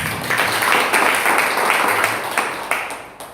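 Applause from a church congregation in a large worship hall, a dense, steady wash of many hands clapping close by with no voices over it.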